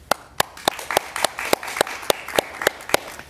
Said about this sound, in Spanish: lo recibimos eh, con un fuerte aplauso, por favor.